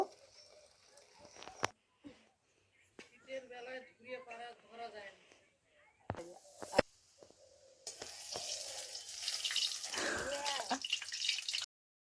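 Tap water runs steadily for a few seconds while bhola fish are washed for a spicy curry, following quieter clinks, handling noises and brief voice-like sounds.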